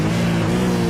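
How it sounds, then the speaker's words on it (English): A V8 race car at Silverstone drones steadily, close and loud, its engine holding an even tone for a brief moment with no other sounds. "He's definitely lifting and coasting a slight bit into the braking zone."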